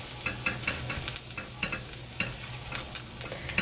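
Pastry batter cooks in a takoyaki pan over slightly raised heat, giving a faint, gentle sizzle broken by light, rhythmic taps and scrapes of a turning tool.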